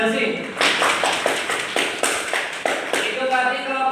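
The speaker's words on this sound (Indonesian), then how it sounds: "Tepuk tangan buat Desi." A classroom group claps together in a loud, dense burst of applause with rhythmic beats running through it. Voices can be heard underneath.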